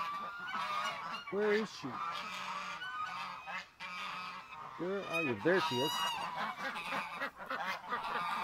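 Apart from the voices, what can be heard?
geese honking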